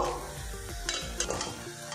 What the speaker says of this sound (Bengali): বাকিগুলো আমি এইভাবে ফ্রাই করে নেব